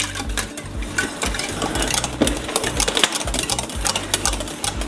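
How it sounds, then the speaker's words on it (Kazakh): A spoon stirring a melting sugar mixture in a pot, rapid uneven scraping and clinking against the metal, close and continuous without talk. "Толыққанды қантымыз барлығы ергенше үнемі араластырып отырамыз"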